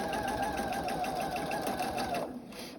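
A sewing machine stitches fabric for a medical mask, running in a steady, close, continuous whir for a couple of seconds before slowing and stopping near the end.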